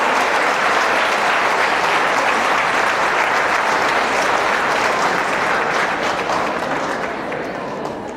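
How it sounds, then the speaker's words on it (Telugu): A large audience claps at a boot camp gathering, a dense, even wall of applause that holds steady throughout and fades slightly at the end. "ఒకసారి క్లాప్స్ కొట్టండి, మీకు మీరే క్లాప్స్ కొట్టుకోండి"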